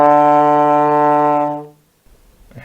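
A trombone holds a low D in 4th position as one steady, loud, close note lasting about a second and a half before fading out, with a faint breath or rustle afterward.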